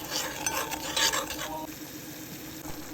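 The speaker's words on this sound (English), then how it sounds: "Mix it up." A spoon stirs chicken gizzard stew in a pot, with close, scraping rasps in quick strokes that fade to a quieter simmering sizzle.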